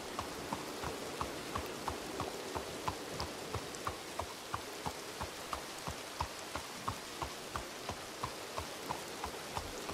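Steady rain falls across an outdoor scene in the western game RedM, a continuous hiss with regular clip-clop hoofbeats of a horse running through it, fairly quiet and with no talking.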